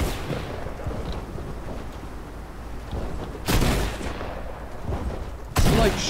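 Gunfire aimed at the player in a pistol-only video game match, with two sharp loud bursts standing out over a steady rumbling background of game noise.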